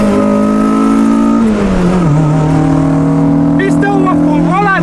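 A modified Honda Civic engine drones loud and close from inside the car as it pulls hard along the road, its tone shifting and then holding steady, with a voice briefly heard near the end.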